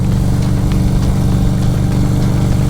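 A FKM Victorino 250i scrambler's engine labours steadily in too high a gear, a low, dense, continuous drone with no break, heard close and fairly loud while riding in the rain.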